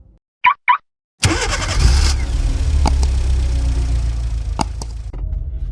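Two quick key or chime clicks, then a car engine cranks and catches with a loud roar that settles into a steady close idle, with a couple of faint clicks over the running engine.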